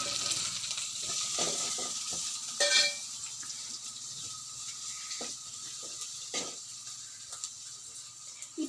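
Brinjal fries with garlic and spices in a pan, giving a steady, moderate sizzle broken by occasional scraping stirs and faint clinks of a utensil, with no talking.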